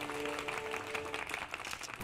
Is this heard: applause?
yes